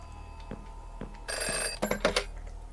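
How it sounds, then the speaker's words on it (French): A telephone rings in the video game Unsighted Shadow with bright electronic bursts, one long ring and then several shorter ones. Soft clicks come before it, and the ring is fairly close and alone. "téléphone. On peut cliquer dessus."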